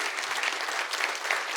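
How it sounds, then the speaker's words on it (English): Conference audience applauding at the closing of an education technology event, a dense, steady wash of many hands clapping together, sustained and even throughout without voices standing out. "I think we should give Ty a round of applause for that"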